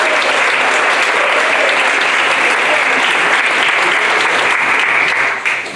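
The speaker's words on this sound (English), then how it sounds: "can we have another round of applause for Declan?" A lecture audience applauds a speaker in a hall, dense sustained clapping that carries at full strength for over five seconds before starting to fade.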